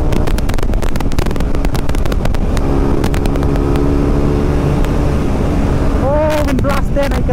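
KTM Duke 390 motorcycles, BS6 and BS3 versions, racing on a highway in a drag race, the engine roaring loud and close throughout with rising revs, gear-shift pitch changes and heavy wind buffeting.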